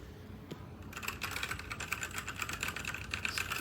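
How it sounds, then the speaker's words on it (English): Rapid typing on a Newmen GM610 60% wireless mechanical keyboard, a dense stream of crisp clacking keystrokes close up after a brief quiet start, with no voices. "if you want to see if the words type,"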